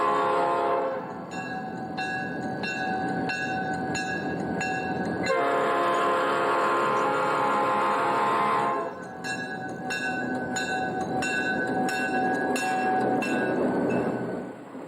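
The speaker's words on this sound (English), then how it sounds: "NS freights move at a cautious 10 miles per hour, sharing the street with vehicular traffic." A Norfolk Southern freight train creeps along a street at about ten miles per hour, with steady rumbling wheels, a sustained loud horn blast in the middle, and rhythmic car clanks repeating before and after.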